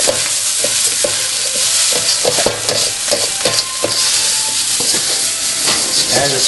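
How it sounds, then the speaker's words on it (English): A spatula scrapes burnt bits of fried rice off the bottom of a hot cast iron pan, repeated rasping strokes over a constant loud sizzle, with some faint speech. "And just scraping those little burnt bits off the bottom"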